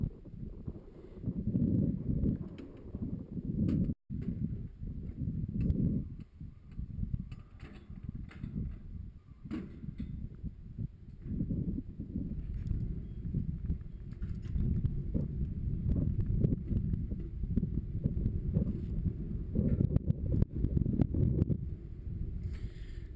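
Strong gusty wind roars across a mountain summit on Mount Washington, buffeting the microphone in heavy low rumbling blasts that surge and ease over twenty seconds, loud and close, with no talking.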